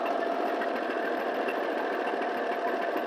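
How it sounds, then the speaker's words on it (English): A small gasoline engine with a carburetor, running on fresh gas after diesel contamination, hums steadily at close range with a fast, even buzzing rhythm as its speed settles down, with no talk over it. "Now the RPMs are coming down as the fresh gas is getting into the carburetor"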